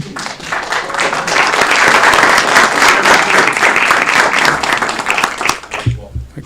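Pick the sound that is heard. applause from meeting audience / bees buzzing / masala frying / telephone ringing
applause from meeting audience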